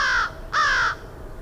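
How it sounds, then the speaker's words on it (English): A crow gives two loud, clear caws in quick succession, close by, with a brief pause between them. "clear cawing sound."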